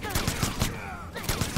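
Rapid gunfire in the fighting game Mortal Kombat X comes as a quick burst of repeated shots, loud and close, with game sounds under a voice.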